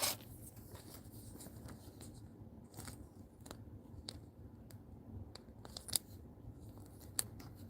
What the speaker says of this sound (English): we're going to rip 93 Topps next. Rip that.